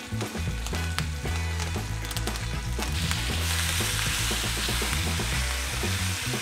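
Beef short ribs sear in a pan with a halved garlic head and thyme sprigs, producing a loud continuous sizzle and spatter over a low rumbling hum, with no voices.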